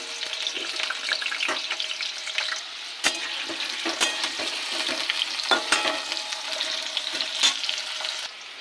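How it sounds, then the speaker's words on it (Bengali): Potatoes frying in hot oil, a bright steady sizzle with occasional sharp clicks and scrapes as they are stirred, close and clear with no talking. "তেল গরম হয়ে গেছে, এবার দিয়ে দেবো আলুটাকে ভেজে নেব"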